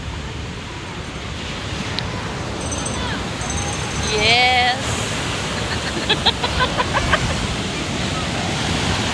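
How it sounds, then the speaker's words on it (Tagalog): Strong surf pounds the beach at La Union, a constant roar of crashing waves and wind buffeting the microphone, with people's voices and a brief cry breaking through partway. "tignan nyo yung hampas ng alon,"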